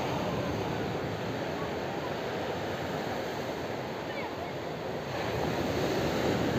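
Ocean surf rolls continuously onto Sidi Bachir beach on Morocco's coast, a broad, steady wash of breaking waves mixed with wind noise on the microphone, with no distinct pauses.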